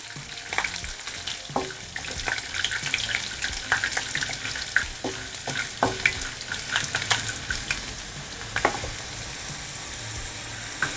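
Peanuts frying in a pan give a steady, close sizzle with light crackles and occasional stirring clicks throughout, no speech over it.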